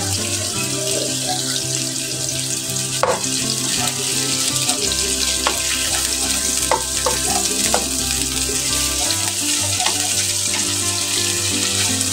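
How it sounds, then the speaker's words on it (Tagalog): Chicken pieces browning in a hot pan over medium heat sizzle steadily and loudly, with occasional clinks and stirring scrapes and no one talking. "medyo i-brown lang natin yung ating chicken bago natin ilagay yung ibang sangkap"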